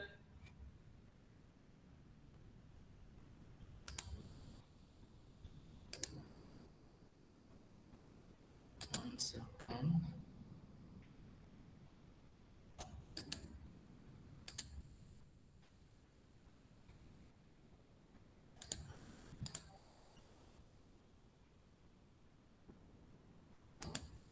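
A computer mouse gives sparse, crisp clicks at irregular intervals, single and double, against a quiet background during an online academic session, with faint speech in places.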